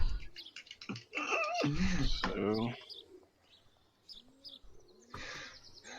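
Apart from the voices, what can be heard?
birds chirping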